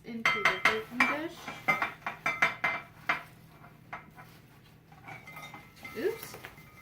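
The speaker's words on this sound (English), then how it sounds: "let's go ahead and get our fries into the baking dish" Loaded fries are tipped into a baking dish, giving a quick run of light clattering clinks and taps that thins to sparse knocks, with a brief voice near the end.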